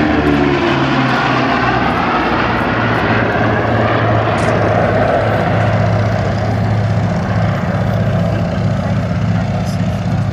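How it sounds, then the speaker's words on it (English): The Boeing B-29 Superfortress "FIFI" makes a high-speed pass, a loud, steady drone of big piston engines and propellers that roars continuously and shifts slightly as it goes by. "Here comes the B-29 in a high-speed pass."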